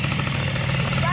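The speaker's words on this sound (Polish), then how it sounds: "No to jest motocykl do rozrzucania żwiru" A SanYang two-stroke motorcycle engine runs steadily and close by, a continuous buzzing drone with a low rumble and no break over a short stretch.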